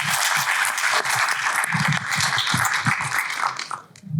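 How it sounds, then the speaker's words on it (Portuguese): Audience applause at a health conference session, dense continuous clapping from a crowd that holds steady for about four seconds before tapering off at the end. "Palmas para a Suelen"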